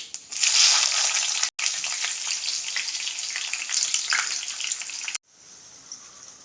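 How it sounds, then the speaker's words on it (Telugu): Onions tossed into hot oil with seeds for an amaranth leaf fry sizzle loudly and close up, a steady crackling hiss broken by two brief pauses before settling to a softer sizzle. "ఇప్పుడు మనం ఆనియన్స్ వేసుకుంటున్నాం."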